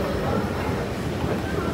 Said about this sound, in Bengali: ট্রেন এখন এসে নাকি এসে পড়ছে অলরেডি